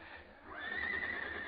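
A horse whinnies in an old-time Western radio drama, a single rising, drawn-out neigh that swells midway and holds loud and close to the end, alone without any voices.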